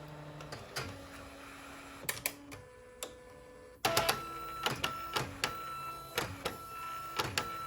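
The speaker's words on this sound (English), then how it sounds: "The print head is automatically capped and cleaned by the machine." A Canon inkjet printer capping and cleaning its print head: a sequence of clicks, whirring motor tones and clunks, with a louder burst of mechanical activity midway, close and fairly quiet, no voices.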